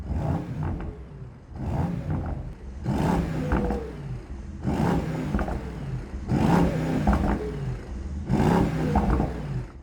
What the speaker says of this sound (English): We go into Sport Plus, the V8 comes alive, race mode.